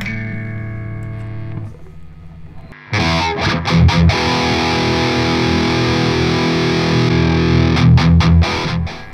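A clean electric guitar chord rings out, then a heavily distorted Les Paul electric guitar, through a Mercuriall SS-11X amp simulator, crashes in with loud, chugging palm-muted riffs and brief stops.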